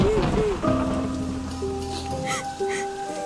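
Heavy rain pours in a steady dense wash with a faint rumble beneath, while soft melodic music tones play over it.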